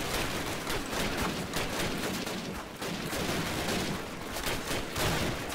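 Dense, continuous gunfire from Call of Duty: United Offensive, a World War II shooter, with overlapping shots forming a steady, loud clatter throughout, close and unbroken.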